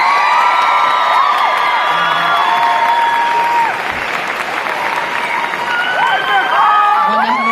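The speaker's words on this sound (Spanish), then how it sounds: "welcome Pastor Oxopar with a big round of applause" An audience welcomes a pastor at a church gathering with loud, sustained applause, cheering and whoops that fill the whole stretch without letting up.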